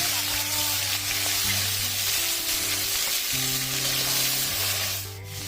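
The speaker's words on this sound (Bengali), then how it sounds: "এবার লবণ হলুদ মাখিয়ে রাখা কই মাছগুলো ভেজে নেব।" Koi fish coated in salt and turmeric fry loudly in mustard oil, with a dense, continuous close sizzle and crackle that holds steady before a brief dip at the end.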